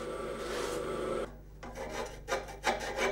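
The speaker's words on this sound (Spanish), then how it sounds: "Cuando cada pieza está terminada, Marmolejo la pule en las ruedas para sacarle el brillo." Silver piece pressed against spinning buffing wheels by a metalsmith, a steady close abrasive rasping hiss with short breaks and shifts in pressure toward the end.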